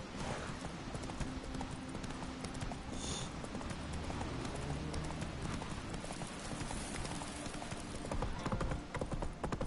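A horse's hooves clip-clop at a steady trot in The Witcher 3, rhythmic and close, running without pause and swelling slightly near the end, with a brief brighter chime mixed in early on.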